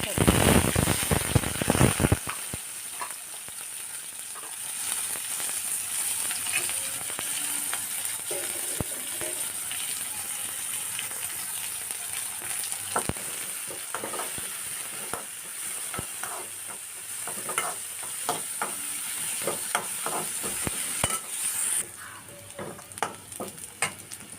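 Onion and chilli crackle and spit in hot oil with mustard seeds for a tempering over vegetable curry, a dense steady sizzle punctuated by sharp popping bursts, loud at first and settling into a continuous fry.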